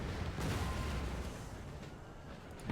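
Cannon artillery in the black-powder era strategy game Empire Total War booms in dull, distant rumbling volleys, muffled under battlefield noise, with a louder thump at the end.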